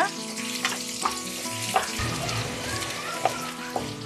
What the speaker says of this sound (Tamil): ஆனியனை போட்டு கொஞ்சம் நல்லா சாட்டே பண்ணிக்கோங்க.